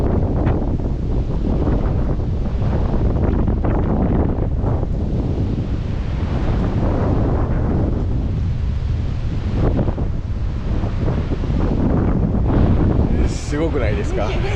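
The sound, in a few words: strong wind during a snowstorm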